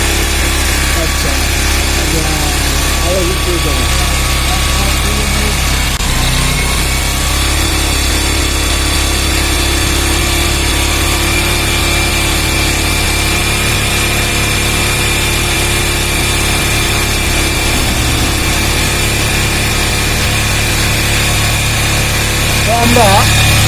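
A Yamaha motorcycle engine idles steadily and loudly while its carburetor air and idle screws are adjusted, holding an even, continuous running tone for the whole stretch with a faint knock or two of handling.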